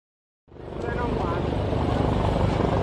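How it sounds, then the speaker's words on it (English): A Chinese-made Z9 helicopter of the Ghana Air Force flies at an Independence Day anniversary display, its rotor and turbine roar cutting in abruptly and holding steady, loud and close, for the rest of the stretch. "The helicopter you see today is one of the helicopters of the Ghana Air Force. It is called the Z9."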